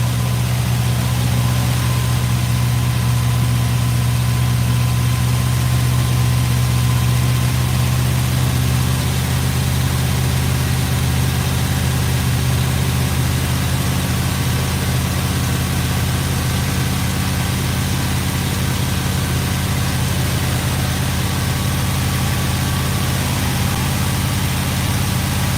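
A GMC truck engine idles steadily just after its first start, a loud, constant low rumble with an even hum and no pauses throughout.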